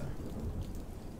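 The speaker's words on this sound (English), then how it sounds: "It's a dark and stormy night." A thunderstorm with dense, steady rain and low rumbling thunder, loud and continuous with no talking.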